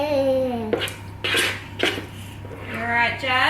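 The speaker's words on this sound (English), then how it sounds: "I'm just gonna put these back in the" Metal baking trays clatter and clank against the oven racks as they go back into a home oven, several sharp knocks amid soft kitchen handling.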